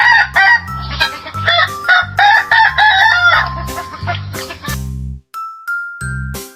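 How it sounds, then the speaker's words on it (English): A barnyard rooster crows with loud, repeated cock-a-doodle-doo calls alongside chicken clucking, all close and clear, followed by a few bright tinkling chimes near the end. "Cluck, cluck, it's a chicken."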